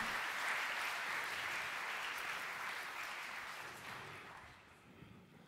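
Applause from an audience at a G-Force graphics card event, a thick wash of clapping that holds steady and then gradually fades over about five seconds.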